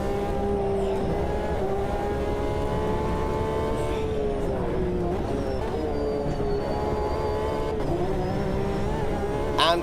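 Race car engines whine and rev continuously in a racing video game, high-pitched tones rising and falling with gear changes as the player closes on a slow car, loud and steady throughout.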